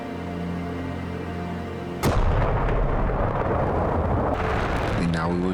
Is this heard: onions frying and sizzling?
no